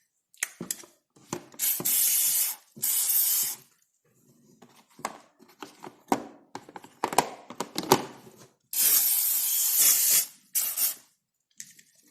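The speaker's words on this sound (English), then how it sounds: "I spray everything on both sides." Several short hissing bursts of aerosol lubricant spray onto plastic RC parts, some long and some brief, close by, separated by quiet gaps with light handling clicks and clatter in between.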